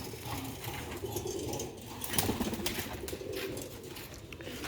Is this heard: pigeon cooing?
yes